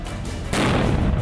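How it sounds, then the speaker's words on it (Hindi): A ceremonial cannon salute fired during a street parade in Mexico: one heavy, loud boom bursts in about halfway through and rolls on as a broad rumbling blast to the end. "उनकी याद में हजारों लोगों के बीच उनको तोपों की सलामी देते हैं।"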